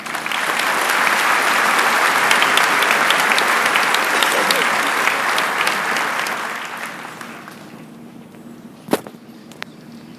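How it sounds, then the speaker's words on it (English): Sustained applause from a high school commencement audience in a large hall, loud and steady for about seven seconds before tapering off, with a sharp single clap or knock near the end. "please honor Stephanie with another round of applause"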